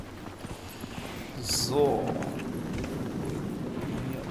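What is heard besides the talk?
horse hooves clip-clopping in video game Dragon Age Inquisition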